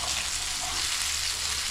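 Pomfret fish frying in a pan, a steady dense sizzle and crackle of hot oil, close and continuous with no talking.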